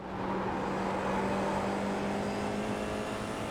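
A race car engine drones steadily in a racing video game as the driver drops down two gears, a constant loud mechanical hum with a faint steady tone and no clear rev spikes, with no talking.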